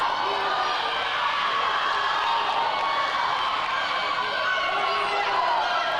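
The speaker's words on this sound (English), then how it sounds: "As we see a couple of the Centennial timers here cheering on their fellow Bulldogs." Steady crowd noise at a girls' varsity high school swim meet, with timers on deck cheering their teammates amid a continuous, reverberant roar of shouts and whoops, no clear breaks.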